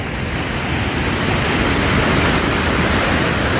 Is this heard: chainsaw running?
no